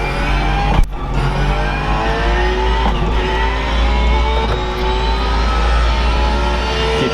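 Car engine revving hard in a drifting racing simulator game, a loud steady drone with rising and falling harmonics and a brief shift blip early on.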